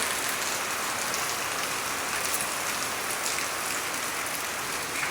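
Steady rainfall on leafy green trees under an overcast sky, a dense, even hiss of drops that stays constant and fairly close the whole time.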